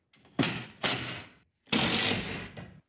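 A 10 millimeter socket ratchets a new screw through a Monoprice tilting TV mount bracket, giving three separate bursts of close, loud ratcheting clicks with short pauses between them.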